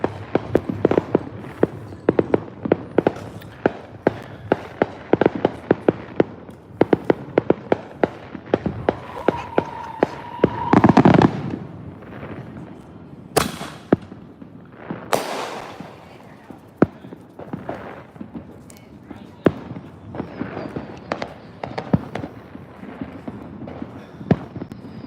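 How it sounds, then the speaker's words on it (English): Fireworks and firecrackers go off around a house on the 4th of July, a long stretch of sharp pops and crackles in rapid, irregular bursts, some loud and close, with occasional whistling rockets and faint talk in between. "we are actually at a house that's doing a bunch of fireworks"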